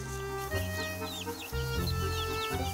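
Several young chickens cluck and chirp on a farm while pecking at scattered feed, with a steady low hum of background noise underneath and no talk.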